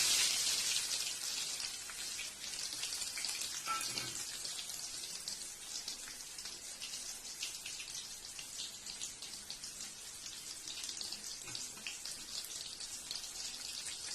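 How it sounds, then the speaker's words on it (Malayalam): Chopped onion frying in hot oil with popped mustard seeds, two chillies and curry leaves, a steady, close crackling sizzle that runs evenly throughout with no voices. "ഉള്ളി ഒന്ന് മൂക്കട്ടെ"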